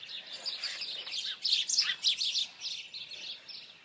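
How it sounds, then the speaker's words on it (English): Small birds chirp and tweet busily at a moderate distance, a steady overlapping chatter of quick high calls with no voices. "Birds."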